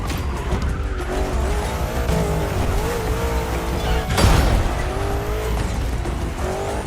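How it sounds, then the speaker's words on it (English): A Mustang Boss 429 muscle car in The Crew Motorfest racing game drives hard with a loud engine roar and shifting revs, tire squeal and skidding, and a sharp burst of engine or impact noise midway. "There's an absolute classic heading your way, a grail among collectors and Jim's greatest pride, the Mustang Boss 429"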